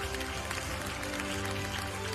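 A ceremony audience claps continuously, a short burst of steady, dense applause with a faint murmur of voices underneath.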